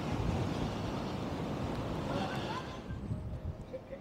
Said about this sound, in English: I can feel the wind coming towards me.